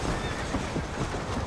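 A horse whinnies in the video game Red Dead Redemption, a short neigh over rumbling hooves and a dense background of ambient noise.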